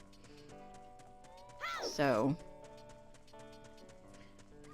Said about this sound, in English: our horse is here